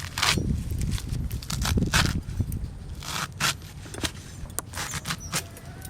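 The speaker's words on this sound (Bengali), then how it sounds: "শাকগুলো এবার ছোট ছোট করে কেটে নেব।" Kulekhara greens are chopped into small pieces with a blade, giving a series of close, irregular crisp cuts and thuds over a board, with rustling between strokes and no talk.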